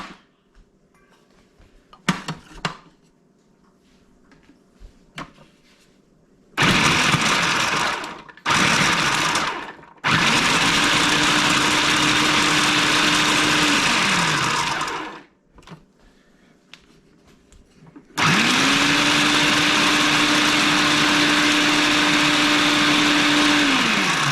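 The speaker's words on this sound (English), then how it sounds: "I still want to grind a little bit more" A blender grinding coconut for coconut choka, running in several loud close bursts of varying length with sharp starts and stops and quiet gaps between, without talk.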